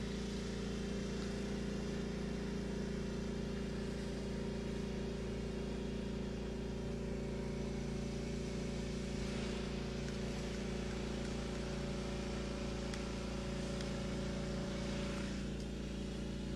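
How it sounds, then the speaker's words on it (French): A truck arrives at a fire and rescue exercise at the La Rochelle marina, its engine a steady, continuous drone that holds almost unchanged throughout, with no voices. "vous voyez le camion qui arrive."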